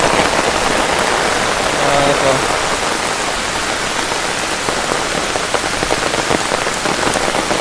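Heavy rain pours steadily onto surfaces outdoors while young novice monks play in the water, forming a loud, dense, continuous hiss from start to finish, with a faint voice briefly audible beneath it.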